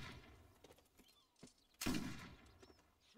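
Gunfire from the video game Hell Let Loose: a few scattered shots and thuds, then one loud, sharp blast near the middle of the clip that fades with a short tail, with no talking.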